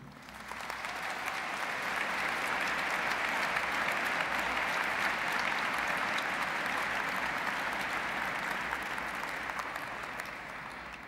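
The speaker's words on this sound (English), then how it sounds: "give those who got you to this place a big round of applause" At a university graduation ceremony, a large hall audience gives sustained, even applause for the graduates' families and friends, swelling in quickly, holding steady and easing off at the end.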